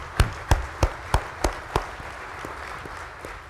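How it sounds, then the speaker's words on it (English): An audience breaks into a round of applause, several loud sharp claps in a quick regular rhythm that then thin out into softer, scattered clapping. "just a round of applause"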